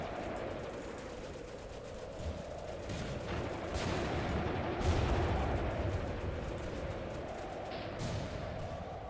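Gunfire in the war game Graviteam Tactics set around the 1943 Third Battle of Kharkov: repeated shots and distant booming blasts over a continuous low battlefield rumble.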